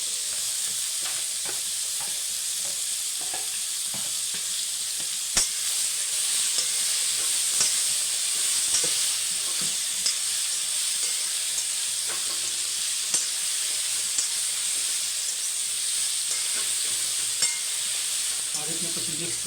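Chopped chibhda frying in oil with asafoetida and turmeric, a steady close sizzle with scattered clinks and scrapes of a stirring spoon against the pan.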